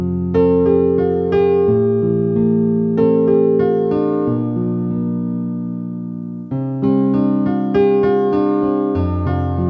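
A steady piano melody with a second note doubling each tone above the left-hand accompaniment, played continuously without pause.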